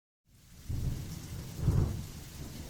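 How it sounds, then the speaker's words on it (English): Rain falling outside a window during a storm, a soft steady wash with low rumbling swells that build around the middle, heard alone without voices. "The sound of sparse rain could be heard outside the window."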